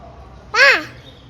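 A voice imitating a crow's caw, one drawn-out nasal cry lasting about a quarter second, clear and close against a quiet background.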